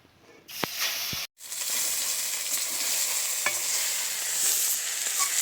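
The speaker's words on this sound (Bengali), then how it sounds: "আর যে বাদ বাকি মাছগুলো আছে এই মাছগুলোও দিয়ে দেবো।" Fish sizzle and hiss steadily in hot oil in a home kitchen, with pieces added partway through, a loud continuous frying crackle broken by a brief pause and a few sharp clinks.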